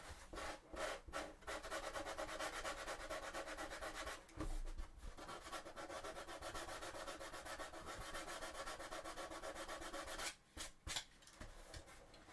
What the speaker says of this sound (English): It's so hard to sand something that's so flexible.